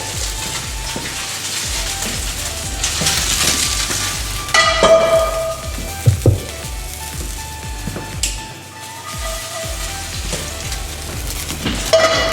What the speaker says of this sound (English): So we dump the oil, put the pan back on the heat.